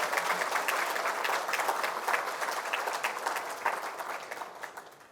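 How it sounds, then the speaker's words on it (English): A round of applause fills a Jamaican government service excellence awards conference hall, dense steady clapping from a large audience that gradually thins and fades toward the end. "Give Pika a round of applause."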